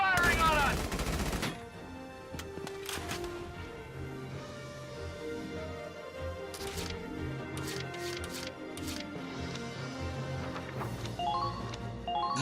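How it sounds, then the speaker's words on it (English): Gunfire in the video game Valkyria Chronicles 4, with repeated sharp shots and short rattling bursts scattered across the stretch over a constant music bed, fairly loud and mid-distance. "They're firing on us!"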